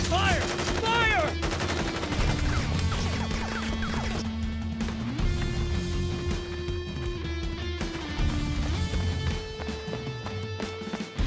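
Rapid bursts of gunfire from the Crisis Core Reunion video game crackle continuously, loud and dense, layered over sustained music.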